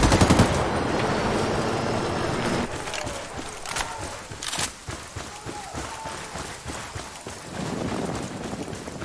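Gunfire from a firefight at a camp entrance in Ghost Recon Wildlands, with an Apache helicopter nearby: dense bursts and scattered shots over a continuous roaring, wind-like background, loud throughout with sharp cracks in the middle stretch.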